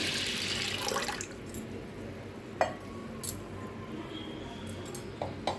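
Water sloshes and swirls as lentils for idli batter are rinsed, with light clinks and splashes scattered throughout, close and moderately quiet.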